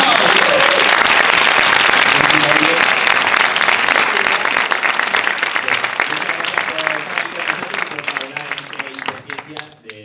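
Loud audience applause fills a science improv event hall, dense and sustained, gradually thinning toward the end while voices murmur underneath.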